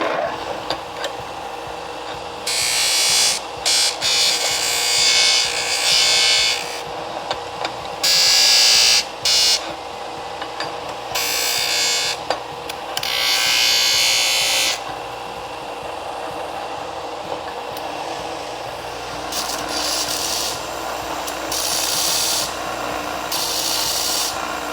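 Hand deburring of a laser-cut part for an electric go-kart: repeated bursts of close, bright rasping and grinding, a few seconds each, separated by short pauses, with steady workshop hum underneath and no talk.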